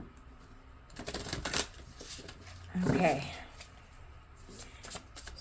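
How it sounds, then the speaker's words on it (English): Large tarot cards from an Age of Aquarius deck are handled and shuffled by hand, giving soft papery riffles and slides, with one louder burst in the middle and a brief spoken word. "So I can still hold the cards and shuffle them."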